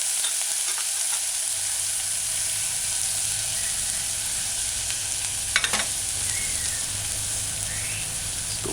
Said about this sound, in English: Add your diced scallion, stir it in a few times, allow it to saute